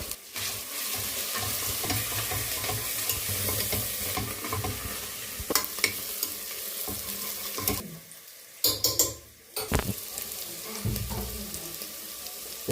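Ginger garlic paste frying in a pot ahead of chicken curry for a pressure-cooker chicken dish, a steady close sizzle with stirring scrapes throughout that briefly drops out and returns toward the end.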